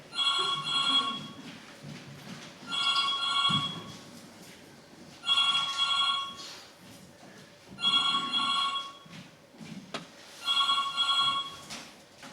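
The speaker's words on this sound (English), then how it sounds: "Oh, I'll just put that on answer phone, Eunice." A landline telephone rings close by in a home setting, five evenly spaced double-burst rings separated by short silences, with no voices heard.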